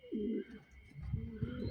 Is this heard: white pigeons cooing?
yes